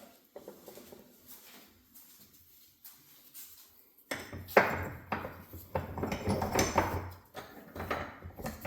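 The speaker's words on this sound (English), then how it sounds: "I might need a hammer for that." Quiet tinkering gives way to a series of sharp metallic hammer taps and clanks, irregular and close, on a power steering pump part.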